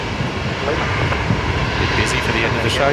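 Airliner noise at Brisbane Airport, with an A350-900 on long final: a steady, broad engine roar throughout, under people talking casually nearby.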